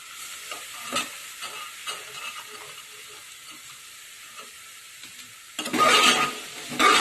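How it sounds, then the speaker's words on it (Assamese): Soaked chickpea dal stirred into vegetables frying in a pan: scraping stir strokes over a soft sizzle, then a louder burst of sizzling near the end. "গোটেইখিনি ভালকৈ লৰাব।"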